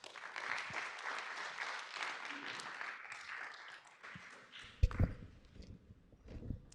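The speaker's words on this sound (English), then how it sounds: "If you want to applaud them one more time for that valiant effort" A conference audience claps after a panel session on open radio access networks and 6G, the applause sustained and moderately loud before thinning into scattered claps, thumps and handling noises toward the end.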